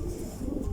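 Parwazi pigeons give a brief low cooing murmur at close range in a pigeon loft, with nothing else heard.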